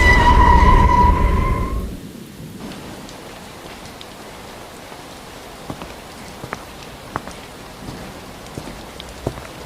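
Rain falls in the video game Sakura School Simulator. A soft, faint hiss carries scattered sharp drip ticks, following a louder tonal sound at the start.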